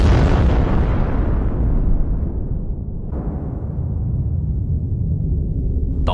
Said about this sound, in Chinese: 导弹的轮番轰炸